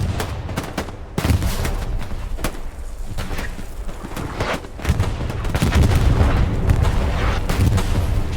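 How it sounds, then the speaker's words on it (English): Explosions and artillery fire in a video game battle in Hurtgen forest: a dense, continuous barrage of booming blasts and rattling shots, loud and overlapping with no pauses. "the amount of explosions has been cranked to extreme"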